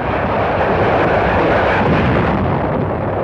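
A loud, continuous rumbling roar of naval gunfire and blasts blending into one dense, distant barrage, as a large fleet bombards the shore at Inchon, Korea.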